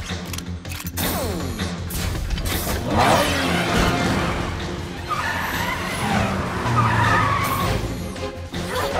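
A cartoon superhero cat car from PJ Masks skids and screeches with tire squeal over a continuous engine drone, loud and close, with a swooping whoosh early and music-like layers throughout.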